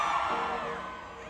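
A crowd of female fans screams loudly at a concert at the Kingston Music Festival in Toronto, a sustained, dense roar of shrieks that runs unbroken from start to finish.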